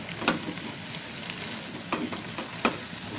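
Kangkung (water spinach) stir-fried in a wok over high heat gives a steady, close sizzle, broken by a few sharp clanks of the spatula stirring the greens.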